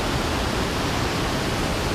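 Gardeners Falls, a freshwater waterfall in the Maleny hinterland mountains of the Sunshine Coast, pours in a steady, dense broadband rush with no change in level and no voices.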